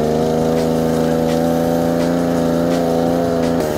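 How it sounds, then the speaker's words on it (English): A petrol generator mounted on an ebike runs steadily, its engine drone holding close and loud while the RPM wavers slightly up and down with the controller's power demand, with no talk over it. "you can hear the RPM of the generator kind of going up and down as the bike controller requests more power from it"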